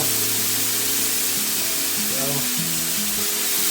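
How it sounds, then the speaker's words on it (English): Korean galbi short ribs grill on a hot grill in a second batch, giving a loud, steady hiss of sizzling meat throughout, with a tonal melody running underneath. "Now that the grill is hotter, I'm going to cook this second batch a little bit faster."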